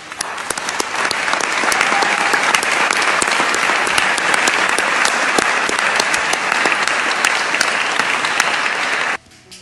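An audience applauding loudly and continuously, dense crisp clapping from many hands that holds steady for about nine seconds before cutting off abruptly.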